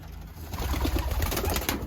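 Pigeons coo steadily inside a pigeon loft, several soft, low murmuring calls overlapping close by with no talking.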